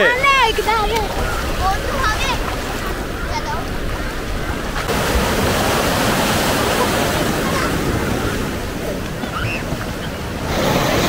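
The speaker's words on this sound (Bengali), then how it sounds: "এত সুন্দর বড় বড় ঢেউ, এখানে স্নান করা একটা আলাদাই মজা" Big sea waves break and wash onto the beach at Puri, a loud, continuous roar of surf with crashing swells close by, plus some wind buffeting the microphone and voices of bathers mixed in.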